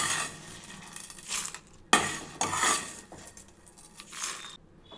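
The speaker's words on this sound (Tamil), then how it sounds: "இப்போ நம்ம மிக்ஸி ஜாரில் மாற்றிக்கலாம்." Roasted spice ingredients for an okra stir-fry are tipped from a pan into a mixer grinder jar, with loud metallic clatters, scrapes and clinks of a spoon and steel vessel in a few bursts.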